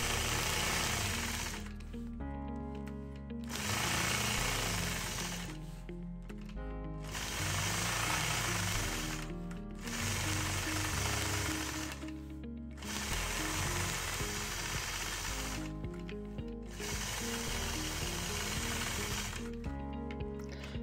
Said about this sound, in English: So I'm going to also go through and stitch in the ditch right along each of my seam lines.